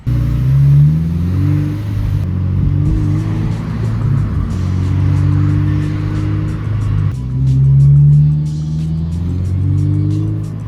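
Aftermarket exhaust on a Subaru BRZ/GR86 sports coupe revving loudly and close, rising and falling in several throttle blips with a steady rumbling idle between them, no talking.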